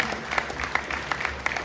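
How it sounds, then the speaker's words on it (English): Applause from the audience at a fight press conference for boxers, steady overlapping claps with a few sharper accents, moderately distant and continuous with no one speaking over it. "Big round of applause to him"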